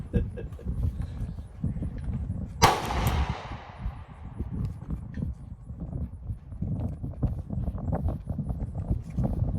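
A CZ VZ52 rifle fires a single 7.62x45mm round outdoors, one sharp loud crack with a trailing decay, surrounded by scuffing, thumping background noise.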